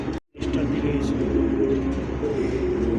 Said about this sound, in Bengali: আর ডাক দেখেন বাকবাকুম